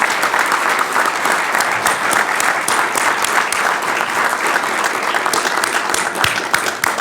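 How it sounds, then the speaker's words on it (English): A Press Club audience applauds a speaker, steady, dense clapping filling the room at full strength from start to finish, with no voices over it. "How about a round of applause for our speaker?"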